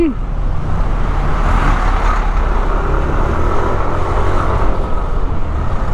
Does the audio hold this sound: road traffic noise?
yes